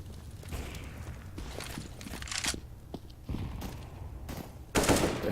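CZ pistol fire in a Counter-Strike match, several sharp shots spaced irregularly among quieter footsteps, with a loud burst near the end.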